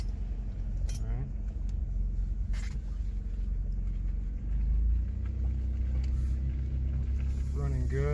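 A Toyota 4Runner engine rumbles steadily at idle and low revs, a deep continuous drone close by with faint clinks and brief rising whines over it.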